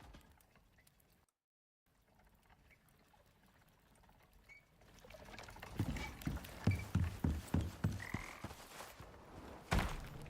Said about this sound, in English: Did I just hear a frog?